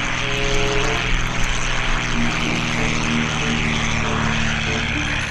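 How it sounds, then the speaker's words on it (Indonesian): A propeller-driven airplane drones steadily and loudly throughout, its engine tone holding a constant, even hum with no voices present. "Wah, ini kapal terbang."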